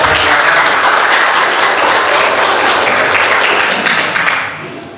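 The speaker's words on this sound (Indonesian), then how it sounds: "boleh beri aplaus dulu buat teman-teman" Students in a classroom applaud loudly with a dense, steady burst of clapping that carries on for several seconds and then tapers off at the end.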